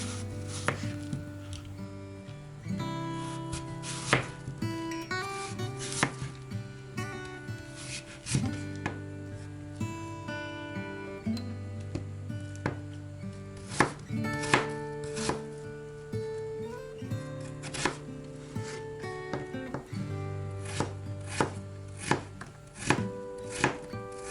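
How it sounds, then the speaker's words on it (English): Knife chopping a peeled apple into small raisin-sized bites, a steady run of sharp, close taps on a board that keeps going throughout, with background music playing underneath. "I washed the apple and I'm gonna peel it and cut it in small pieces like raisins bites"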